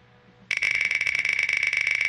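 A game show timer goes off suddenly with a loud, rapidly pulsing electronic buzz that rings on steadily after a quiet start.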